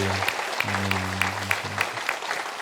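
A church congregation claps together in a steady burst of applause, many hands patting rhythmically in a reverberant hall, with a low sustained tone and faint voices underneath.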